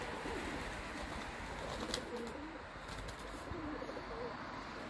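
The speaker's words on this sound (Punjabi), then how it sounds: "ਇਹ ਮੇਰੇ ਬੋਰਡਨ ਕਬੂਤਰ ਨੇ" Pet pigeons kept for breeding coo softly and repeatedly in winter, their low, rolling calls sitting under a steady background hiss.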